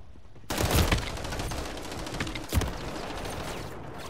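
Rapid automatic gunfire in a first-person shooter video game, a dense burst of shots starting abruptly and continuing for several seconds, with a second sharp volley near the end.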